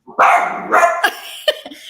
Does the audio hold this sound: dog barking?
yes